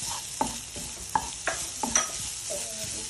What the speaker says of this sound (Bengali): এখন এর মধ্যে নারিকেল দিয়ে দিচ্ছি